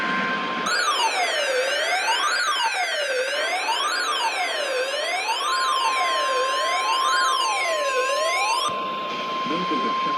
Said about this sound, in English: This is a test of the National Weather Service weather radio warning alarm